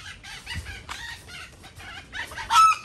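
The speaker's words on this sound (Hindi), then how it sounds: "देख सकते हो अलग अलग किस्म किस्म के मुर्गियाँ हैं यहाँ पे" Chickens of several breeds at a pet park in Mysore cluck and squawk nearby in quick, overlapping bursts, with a louder crow-like call near the end.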